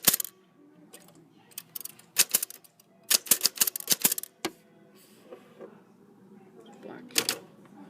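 Typewriter keys clacking in irregular bursts of sharp strikes with mechanical clicks between, close and fairly loud, with quiet gaps.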